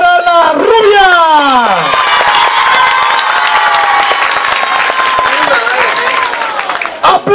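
A crowd at a political party Christmas posada in Villaflores applauds and cheers loudly. Whoops and high shouting voices ride over continuous clapping throughout.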